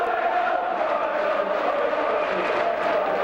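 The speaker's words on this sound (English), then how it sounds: "he was quite prepared to acknowledge the applause of the crowd" Football crowd at Ayresome Park, Middlesbrough, in 1995, a dense, steady roar of applause and cheering from a large stadium audience, continuous and fairly loud throughout with no single voice standing out.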